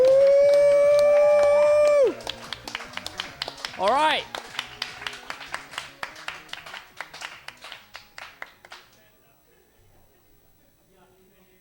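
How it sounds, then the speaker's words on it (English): A loud whoop opens, then a crowd bursts into applause and cheering for players at a classic Tetris tournament, gradually thinning out and fading to near silence. "let's get a big round of applause for the players"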